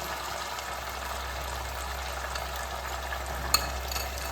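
Dry spice paste sizzling steadily in a pan of hot oil while making a small-fish (charapona) curry, a constant close broadband fry with one brief clink near the end.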